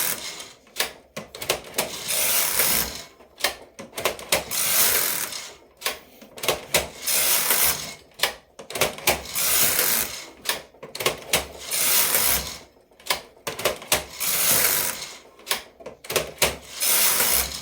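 Knitting machine carriage being pushed back and forth across the needle bed in slip stitch rows, a loud mechanical clattering rush in repeated passes of roughly two seconds, separated by short pauses at each end, with no talking.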